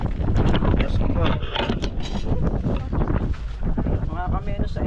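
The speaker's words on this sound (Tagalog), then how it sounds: "Makalakas ng hangin." Strong wind buffets the microphone in loud, uneven gusts and rumbles, with faint voices mixed into the roar.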